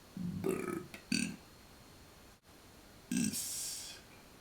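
A man burps loudly several times with pauses between, two quick belches near the start and a longer, drawn-out one later, each close and distinct against a quiet room.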